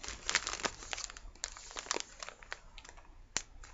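Plastic bags holding doll diapers and booties crinkle and rustle close up in a steady run of crisp crackles with a few sharper snaps, and no one speaks.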